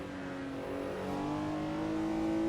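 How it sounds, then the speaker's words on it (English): A 1960s AC Legends GTC with a six-cylinder engine revs steadily from inside the car, its smooth, even drone holding a strong tone that climbs slightly as the throttle is held. No one talks over it. "there's that 6-cylinder noise"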